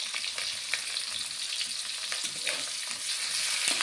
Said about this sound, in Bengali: পেঁয়াজগুলো ভালোভাবে লাল লাল করে ভেজে নিতে হবে।